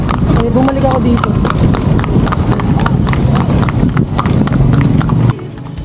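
Horse hooves clip-clop steadily from a kalesa horse carriage, a continuous rhythmic trot of hoof strikes close by under ongoing talk and street noise, cutting off near the end.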